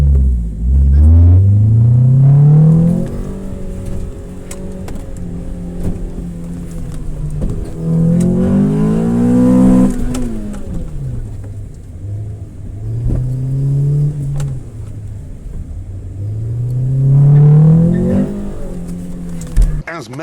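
Small short-wheelbase kei cars racing on a track at a Japanese car show at Donington, their engines revving and accelerating loudly as they pass close by, rising and falling pitch in repeated sweeps, with talk over the top.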